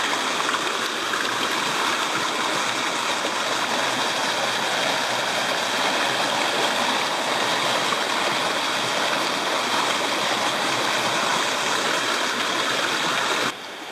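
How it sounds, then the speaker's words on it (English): A small creek near the South Umpqua River flows and babbles continuously, a steady close rush of water with no breaks until it cuts off at the end. "Okay, we're further down this little creek."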